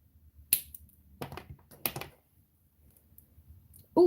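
Craft wire snipped with wire cutters: a few sharp, close clicks spaced apart, with quiet handling noise between them; no speech.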